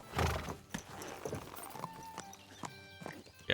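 A horse's hooves and a whinny in the medieval game Kingdom Come: Deliverance II, with a loud clip-clop of hooves at the start followed by a ringing neigh and a few more soft hoof thuds.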